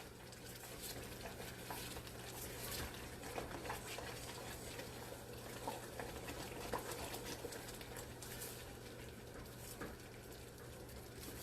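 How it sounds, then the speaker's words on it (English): Fudge mixture boils in a pot on the stove with a dense, steady bubbling and sizzling hiss, close and continuous over a low hum. "once it starts boiling like this"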